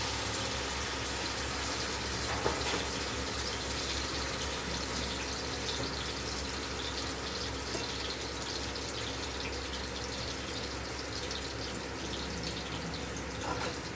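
Running water splashing steadily into a mixer grinder jar as it is rinsed, a continuous broadband gush with no talk, holding even throughout with a couple of faint knocks.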